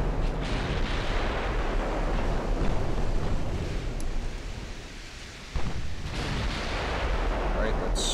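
Naval artillery in the warship battle game Ultimate Admiral Dreadnoughts fires at an enemy battleship, producing heavy booming blasts and rolling rumble that blend into a continuous dense roar, with a sharp new report near the end.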